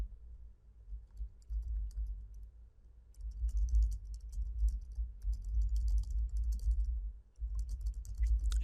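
Typing on a computer keyboard while writing an HTML paragraph, soft rapid key clicks in uneven bursts with short pauses, close and quiet, with no talking.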